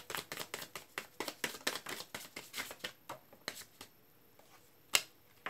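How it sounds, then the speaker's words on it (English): Tarot cards being shuffled by hand, a rapid run of crisp riffling flicks for about three seconds, then a few sparse card snaps and a final sharp slap, close and fairly quiet with no talking. "Last shuffle."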